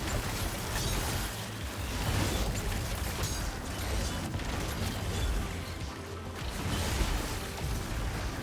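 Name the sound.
rockets exploding in a video game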